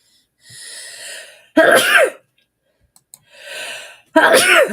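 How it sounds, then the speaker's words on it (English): A person with an irritated nose sneezes twice. Each sneeze starts with a drawn-in breath and ends in a loud, explosive burst, heard close and alone. "I'm going to sneeze."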